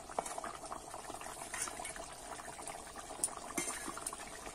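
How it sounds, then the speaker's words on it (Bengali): Tangra fish curry broth with cauliflower and potato simmering in a pot, a quiet steady bubbling with soft pops and small liquid splashes throughout. "মাছটা দিয়ে কিন্তু আমি আবার কিছুক্ষণ ফুটিয়ে নেব"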